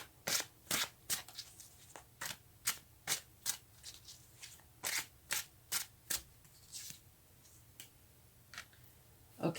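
Tarot cards are shuffled by hand in quick crisp riffles and taps, roughly twenty sharp bursts in an uneven rhythm, close and fairly quiet with no talking.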